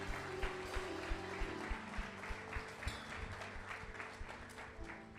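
A church congregation claps during a sermon, a fairly faint, continuous patter of hands mixed with distinct sharp claps and a low sustained tone underneath.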